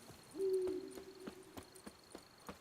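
An owl in The Witcher 3: Wild Hunt, Blood and Wine, gives a long, steady hoot near the start, while faint rhythmic clicks and insect-like chirps tick along in the background.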